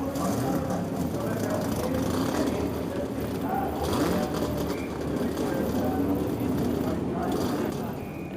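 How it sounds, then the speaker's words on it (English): Touring car engines at the 1991 Bathurst 1000 start and idle together on the grid, a dense, steady mechanical rumble filling the whole stretch, with crowd and commentary voices mixed in beneath. "gentlemen, start your engines"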